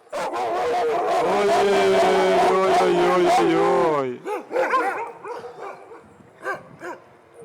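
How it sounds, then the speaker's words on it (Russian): Dogs bred for tourists in Finnish Lapland, near Urho Kekkonen National Park, raise a loud, close howling chorus that breaks into scattered yips and barks, while a man exclaims over them. "Вот для туристов собак здесь разводят."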